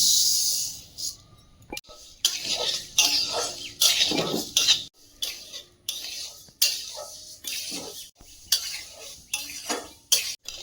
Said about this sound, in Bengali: শুকনো খোলায় মুগ ডালটা দিয়ে দিচ্ছি